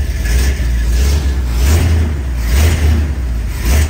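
A close, loud 1974 Ford F250 engine runs continuously after an exhaust header gasket replacement, rumbling low and surging in a few revs, like a truck motor just started.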